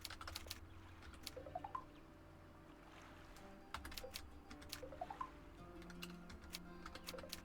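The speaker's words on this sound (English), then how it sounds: "Looks like I should type a message using my own keyboard." Typing on a computer keyboard during play of a Nancy Drew video game: soft, quiet runs of key taps in loose clusters over faint background tones, with no talk.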